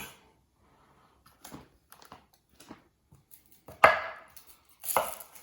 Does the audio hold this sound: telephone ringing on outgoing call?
no